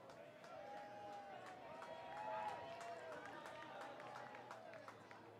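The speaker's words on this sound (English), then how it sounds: "Random noise from the crowd." Crowd noise at a Portland Pickles versus Kamloops NorthPaws baseball game: a steady murmur of spectators with scattered voices chattering nearby throughout.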